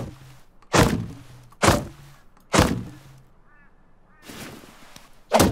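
A nail gun in the game Rust fires five heavy, close thunks at a steady pace of roughly one a second, with a brief gap where a faint warbling honk-like sound rises before the last shots.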